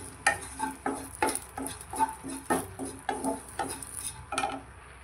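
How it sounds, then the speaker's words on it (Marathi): Dried coconut being dry-roasted and stirred in a hot iron kadai, giving repeated scraping and clinking strokes of a spoon against the pan at a steady, uneven rhythm, close and fairly quiet with no talking. "आता आपण खोबरं भाजून घेऊया."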